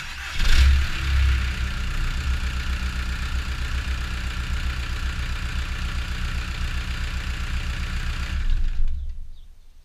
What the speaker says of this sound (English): The motor's starting for you guys.